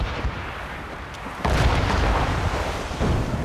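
A single heavy ship cannon boom in an Assassin's Creed Rogue naval battle hits after a moment of rumbling ambience, followed by sustained low roaring and crackling.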